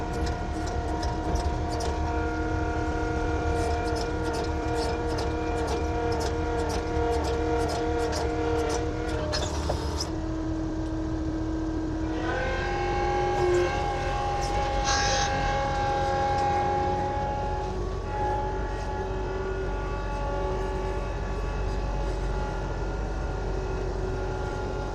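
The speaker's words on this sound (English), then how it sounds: "it's also interesting to hear the difference between the engine sounds on these Avantas" Heavy construction machinery, bulldozers among them, runs steadily throughout with droning, layered engine tones and a rapid rattling pulse early on; the pitch shifts partway through, and the machines are heard without talk.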